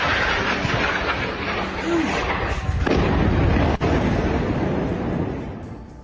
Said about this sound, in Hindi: गाजा में इजरायल की भीषण बमबारी।